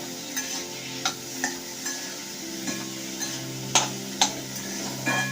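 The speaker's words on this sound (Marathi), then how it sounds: "मीठ घातल्यावरती अजून ते हलवून घ्यायचं सर्व मिक्स करायचं" Pumpkin fasting dish being stirred with salt in a pan over a low flame, a soft steady sizzle under light scraping, with sharper spoon clinks against the pan every second or so.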